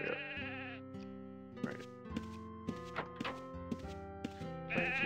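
Sheep bleating in the video game Akalabeth, a loud synthesized game bleat at the start and again at the end, with a series of short musical game tones and thunks between them.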